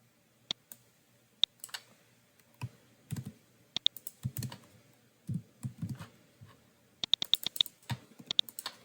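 Irregular bursts of keystrokes clatter on a computer keyboard while code is typed, with sharp isolated clicks and quick clustered runs separated by short pauses, close and fairly quiet.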